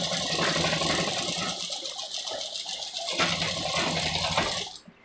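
A sewing machine stitching a gents' kurta, running in a steady mechanical whir with a brief pause near the middle, then stopping at the end; no one talks.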